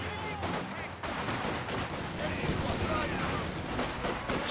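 Machine-gun fire and scattered gunshots crackle in a Company of Heroes 2 battle, dense overlapping bursts mixed with distant booms, running continuously under someone talking.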